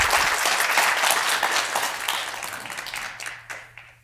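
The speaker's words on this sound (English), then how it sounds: "I applaud you guys" An audience claps loudly together at a pitch competition, a dense burst of applause that slowly thins and fades out toward the end.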